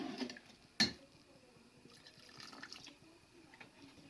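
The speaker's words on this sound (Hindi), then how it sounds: "4 किलो पानी आप इसके अंदर शामिल कर दें" Water poured into a large pot of rice for chicken pulao, a soft uneven splashing and trickle with one sharp clank partway through.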